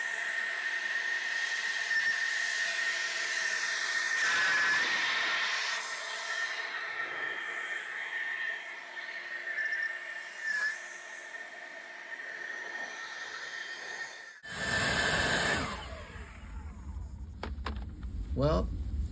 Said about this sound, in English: So I've got my earplugs in, and I'm going to blow from the inside out.